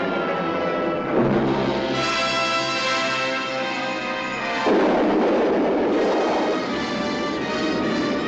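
Loud, sustained bombing blasts from a 1947 film, a heavy rumbling roar that surges and swells again near the middle, with no voices.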